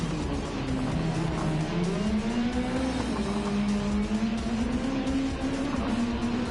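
A CLK and a Toyota race in a video game, their engines a sustained droning roar that slides smoothly up and down in pitch, steady and close with no voices.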